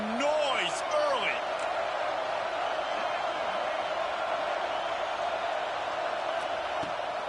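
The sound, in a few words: stadium crowd noise at a college football game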